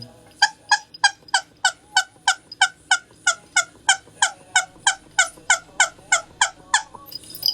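A run of about twenty rapid, evenly spaced nasal squawks, loud and close, like a duck quacking over and over in steady rhythm.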